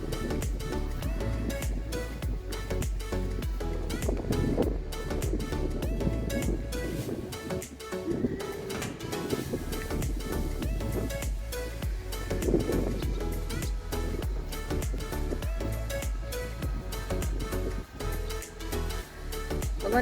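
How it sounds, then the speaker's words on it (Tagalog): Strong wind gusting outdoors at Huatan, a continuous loud roaring rush that swells and buffets the microphone, with faint voices partly buried underneath. "Lakas ng hangin."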